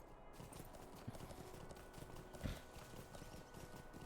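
A summoned horse in the Lord of the Rings Online game clops along with steady rhythmic hoofbeats, a distinct heavier thud near the middle, and a faint whinny-like tone, all at low volume.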